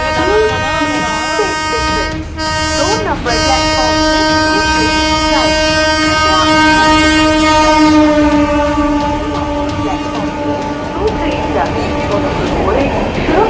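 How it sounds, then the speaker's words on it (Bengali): A train horn blares loudly and steadily as a through train rumbles past a station platform close by, with a public announcement voice in Bengali and English running over the noise. "Through train will be passing from platform number 2."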